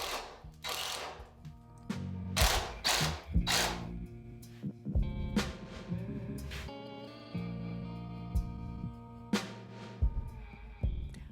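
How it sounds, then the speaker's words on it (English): A hand-driven paddle bit drills peg holes in a wooden pegboard, grinding and chattering in uneven bursts, with mechanical squeaks and rasping, close up. "uses the paddle bit to drill the holes for the pegs"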